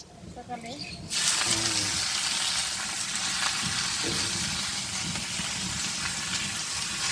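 Saag greens hit the hot pan on a new stove with a sudden loud sizzle that carries on as a steady, dense hiss, with a voice faintly underneath.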